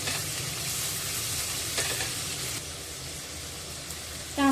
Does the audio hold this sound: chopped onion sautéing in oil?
yes